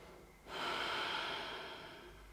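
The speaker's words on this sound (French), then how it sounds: "Des respirations longues et profondes qui remplissent la poitrine, l'espace du cœur et le ventre." A single long, deep breath drawn in during a prenatal yoga session for the second and third trimesters, close and soft, swelling after a quiet moment and then slowly easing off.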